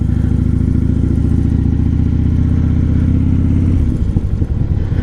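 A 2015 Harley-Davidson Dyna Wide Glide rumbles steadily at cruising speed, its loud low V-twin drone with a lumpy harmonic beat holding constant before easing off near the end, with no talk over it.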